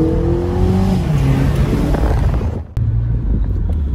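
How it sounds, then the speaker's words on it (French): A BMW Z4 M30i turbocharged four-cylinder engine revs hard and loud up close, rising in pitch, then cuts off abruptly before settling back to a lower idle rumble. "Je vais lui montrer si le 4 cylindres turbo, il chante un peu."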